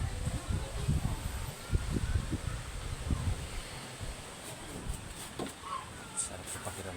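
Steady wind rushing and buffeting in a tree house in a large tree, with a low rumbling gust noise and faint rustling throughout, fairly loud and close, no talking.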